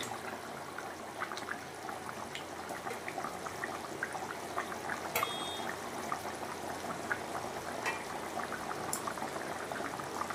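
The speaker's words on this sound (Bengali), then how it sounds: "এখন মাছগুলোকে ছেড়ে দেব, কারণ ঝোলটা ফুটে গেছে।" Fish curry broth boiling in a pot, a steady close bubbling and popping simmer with occasional sharper clinks, continuous and moderately quiet with no voices.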